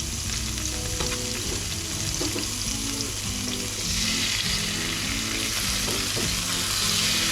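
Streaky bacon strips sizzle loudly in a hot pan, a steady, dense frying hiss that swells louder in the second half, with faint stirring knocks beneath and no talk.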